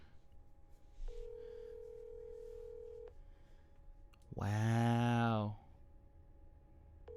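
Outgoing phone call ringback, a steady tone lasting about two seconds, then a loud buzzy electronic burst; faint background noise, with a single short spoken exclamation.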